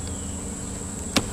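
Bees hum steadily in an opened, weak beehive during a summer inspection, a continuous close buzzing drone with one brief knock near the end.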